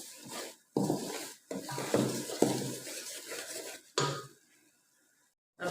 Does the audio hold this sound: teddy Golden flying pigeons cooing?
no